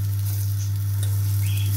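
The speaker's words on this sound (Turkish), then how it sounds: "Sucuklarımı koydum, kızartacağım." Sucuk sausage slices fry without oil in a pan on a stovetop, giving a dense, steady, close sizzle that continues without a break over a constant low hum.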